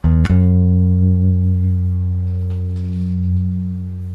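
An EarthQuaker Devices Night Wire harmonic tremolo pedal on a guitar chord, a bright strum that rings on as a steady sustained tone with a gentle pulsing swell, fairly loud and alone without talk.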